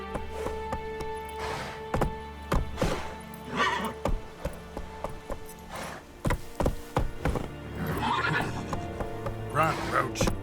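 In The Witcher 3 video game, a horse gallops with quick clip-clopping hooves and lets out several whinnies and neighs, loud and close, with game voices speaking in between.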